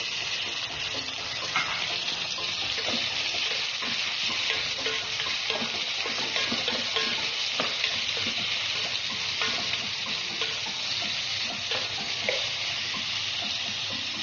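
Tomatoes added to onions frying in a pan for shrimp pakbet, a steady wet sizzle with soft stirring, continuous and moderately quiet.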